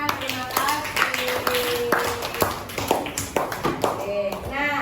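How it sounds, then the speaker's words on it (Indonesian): A classroom of pupils claps hands in a steady run of sharp, close claps while a teacher's voice talks over them. "Oke, tepuk tangan."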